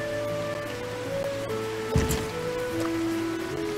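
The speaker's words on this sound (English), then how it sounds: "It's raining right now, so let's do this now." Steady rain falls in the fantasy video game Kitaria Fables, a soft continuous patter over a background of game music tones, with a brief louder splash midway and no talking.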